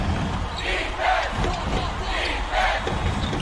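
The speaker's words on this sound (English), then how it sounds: "Listen to the Roos fans cheering on their defense." Basketball fans in a college arena crowd cheer for their defense during an NCAA tournament second-round game, a dense continuous roar with rhythmic chanting swells and faint court sounds beneath.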